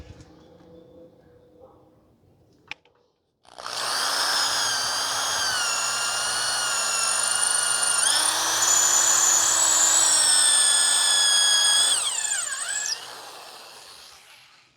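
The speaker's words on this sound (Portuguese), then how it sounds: "Agora vamos fazer o furo com a broca número 6 da Makita." A power drill fitted with a new Makita number 6 bit bores a hole, starting after a faint click with a loud, sustained high whine that shifts pitch slightly midway, then stops abruptly.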